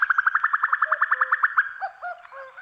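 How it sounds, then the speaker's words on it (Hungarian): A female common cuckoo gives its rapid bubbling call, a fast, evenly spaced run of about fifteen clear notes, followed by a few slower, lower calls, close and distinct against silence. "Ez a bugyborékoló hang a kakuk tojó hangja."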